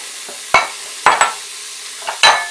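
Onion added to a hot Instant Pot gives a few short, sharp sizzles and stirring scrapes, close up, in bursts separated by quiet gaps.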